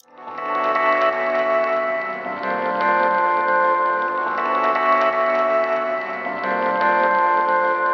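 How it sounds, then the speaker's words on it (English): Music passed through a delay feeding into a reverb, with sustained tonal chords whose repeats smear into a wide, washy tail. The sound is loud and continuous and swells in a few waves. "let's listen to what happens when you do delay into reverb"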